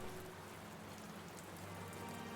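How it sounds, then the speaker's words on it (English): Gentle rain patters steadily on a surface, a dense, even hiss of drops with no voices, used as a sound effect in a fantasy tabletop game scene. "you guys hear the gentle sounds of rain begin to come down and try and douse this fire"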